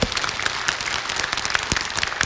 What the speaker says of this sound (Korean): 박수 좀 쳐봐, 박수.